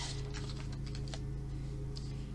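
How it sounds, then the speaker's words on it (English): Small scissors fussy-cut around printed images on paper for a journal tuck spot, giving faint, quick, irregular snips over a steady low hum, close by with no talking. "And then I'm going to fussy cut around the things."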